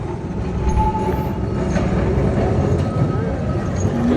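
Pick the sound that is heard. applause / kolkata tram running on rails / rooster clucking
kolkata tram running on rails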